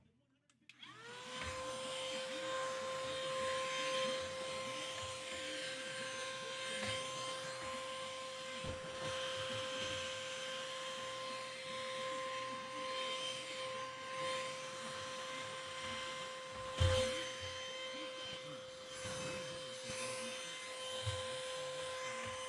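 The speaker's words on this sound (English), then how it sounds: "I have a portable vacuum that I bring with me everywhere." A portable vacuum cleaner starts up and runs steadily with a high, constant motor whine, close and fairly loud, with small bumps and knocks as it is moved around.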